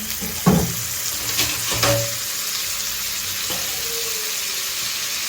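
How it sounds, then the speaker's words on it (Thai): Salted butter dropped into a hot pan for a mushroom and crab-fat pasta sauce, with a brief clatter and splash at the start, then a soft, steady sizzle that continues in the background. "ใส่เนยเค็มลงไปนะคะ"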